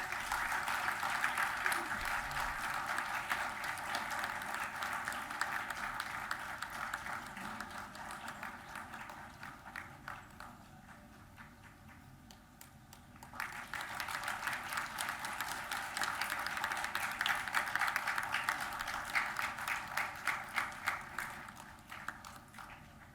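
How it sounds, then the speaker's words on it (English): An audience applauds at an MOU signing ceremony, with sustained clapping that dips briefly midway and then swells again, filling the hall at moderate volume. "Everyone, it's a big moment. Please keep clapping."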